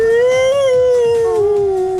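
A man imitates an elephant roar during a tabletop role-playing game session, letting out a loud, sustained, wavering howl-like trumpet that drops slowly in pitch.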